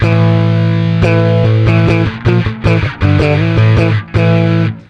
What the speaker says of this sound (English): If you add some distortion to it or overdrive, you get this.